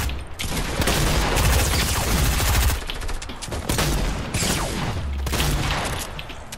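Gunfire in a Fortnite Battle Royale duos match, including sniper shots, comes as dense, loud bursts of rapid shots and booms that continue almost without pause.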